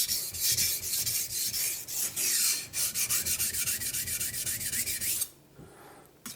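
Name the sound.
knife being sharpened on Naniwa whetstone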